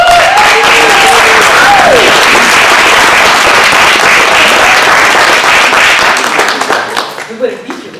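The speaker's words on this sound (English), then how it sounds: "give a round of applause to Emily." Loud, sustained audience applause at a theatre play by a movement project, dense clapping with some whoops and a voice rising briefly early on, carrying for several seconds before tapering off near the end.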